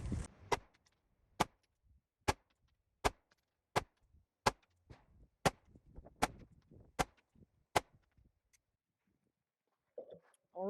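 Ten sharp pistol shots from a Sig X-Macro in a 10-yard accuracy test, fired at a steady, deliberate pace about a second apart, each a crisp crack with a short tail, followed by a brief voice.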